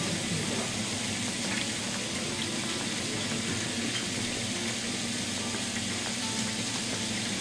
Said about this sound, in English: we sear it to capture the flavor, to brown it on the outside